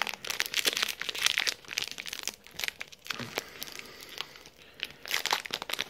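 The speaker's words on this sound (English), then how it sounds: "I'm gonna open this pack right here." Crinkly foil wrapping of a 2018 Topps WWE Heritage trading card pack crackles and tears in irregular bursts close up, quiet but sustained, with no talking.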